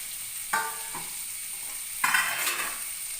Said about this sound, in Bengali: হিটটা বাড়িয়ে দিই, নাহলে পেঁয়াজটা ভাজা হবে না। পেঁয়াজ ভাজতে একটু টাইম লাগে।